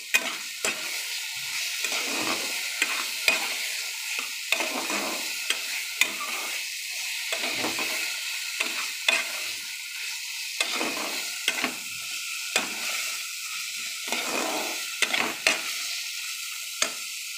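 Pointed gourd (potol) frying in a pan while being stirred, a continuous sizzle broken by repeated scraping strokes of a spatula and light clacks against the pan in an uneven rhythm.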